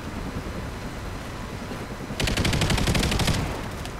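A rapid burst of automatic gunfire, roughly a second long, cuts loud and close through a steady background hum in a Call of Duty: Ghosts multiplayer match.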